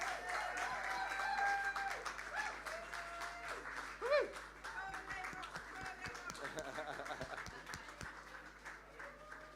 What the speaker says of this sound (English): a big warm round of applause to our first Seanchoiche this evening